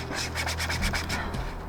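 A pocket chain saw from a cheap survival kit cutting wood outdoors, a close, rapid rasping of short rhythmic strokes, several per second, loud and alone.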